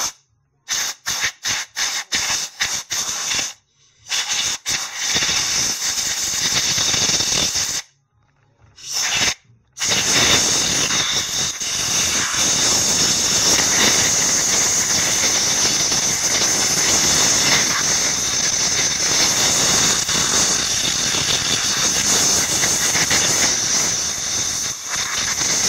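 Steady, loud hissing rush of compressed air blowing out a car heater fan motor, with a few short bursts at first before settling into a long continuous blast.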